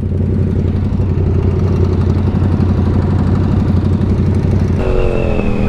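A Yamaha MC-09 motorcycle idles close by with a steady, loud, throbbing engine rumble. A brief rev near the end lifts the pitch.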